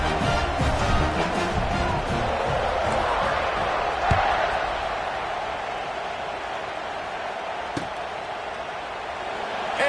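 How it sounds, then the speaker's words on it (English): Stadium crowd in an NCAA football video game after a touchdown, a broad continuous roar that gradually settles, with a couple of sharp thumps. "this crowd is buzzing after that last score."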